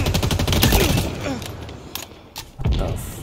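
Rapid automatic assault rifle fire in Halo Infinite, a dense, loud fusillade of shots with a couple of short bursts after a brief pause, mixed with game sound.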